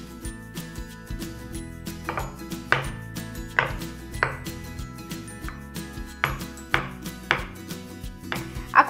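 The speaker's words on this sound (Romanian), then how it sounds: "Acum voi curăța ciupercile și le voi toca." A knife chops mushrooms on a cutting board with irregular, crisp taps, close and fairly loud, with the occasional light clink of kitchenware and no speech.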